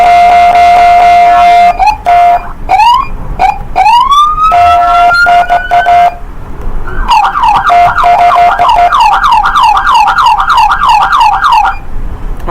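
A Roblox emergency vehicle sounds off loudly: steady horn-like tones broken by quick rising whoops, then a fast, repeating yelp siren that warbles continuously until the end, all close and electronic.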